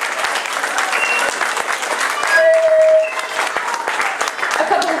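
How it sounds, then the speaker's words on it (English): A school audience applauds after a girl plays saxophone in the school band: loud, close, continuous clapping with a few voices in the crowd and a brief whistle-like tone partway through. "Can we give her another round of applause"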